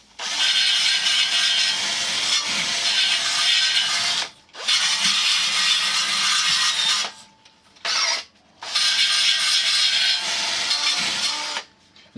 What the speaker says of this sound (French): je prends ma visseuse. Et je vais lui faire un petit coup de brosse.